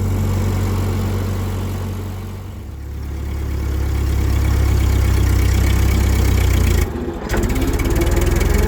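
A 1940s Ford tractor engine runs slowly in first gear, a steady, loud low-pitched chug that holds throughout, with a brief dip near the end before it resumes.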